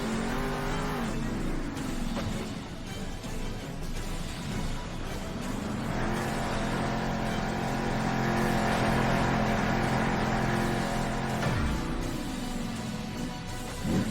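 Monster truck engines roar and rev in the Monster Jam Steel Titans video game, a continuous loud drone with rising and falling pitch sweeps and tire squeal, no talk over it.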